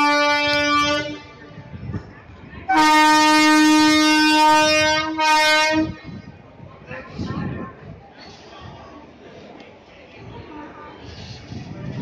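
Humsafar Express train sounding a loud, sustained horn blast that cuts off sharply, preceded by a shorter horn note, with rumbling rail noise and voices nearby.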